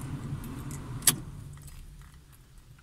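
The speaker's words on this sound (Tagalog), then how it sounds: "So pag binuksan natin ang ignition switch ng ating kotse" A car's ignition is switched on with a key: a single sharp click-jangle stands out against a quiet interior hum, with a faint second click at the very end.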